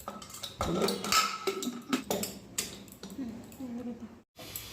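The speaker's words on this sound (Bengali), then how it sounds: "এবার আমি প্রেসার কুকারের ঢাকনাটা লাগিয়ে দিলাম" Metal clinks and light clatter as a pressure cooker lid is fitted on in a home kitchen, several short close knocks at uneven intervals.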